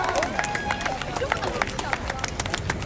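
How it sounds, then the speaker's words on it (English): An audience at an outdoor street juggling show claps for the kids, with a quick scatter of individual claps over a busy crowd murmur and voices talking throughout. "All right, everybody please clap for the kids."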